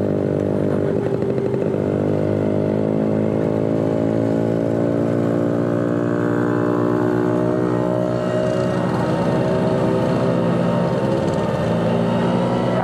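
A classic Vespa scooter engine runs steadily while riding, a loud, continuous buzzing drone with rising and falling revs and no voices over it.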